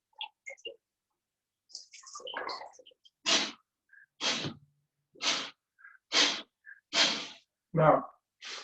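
Forceful mouth breathing during a yoga session, a series of about six loud, rhythmic breaths with a hoarse Darth Vader rasp, each sharp and close, after a few softer sounds at the start.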